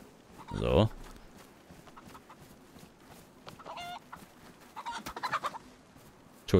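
A hen clucks in the DayZ survival video game, a loud close squawk early on followed by fainter, scattered clucks, with someone talking over the farmyard sounds.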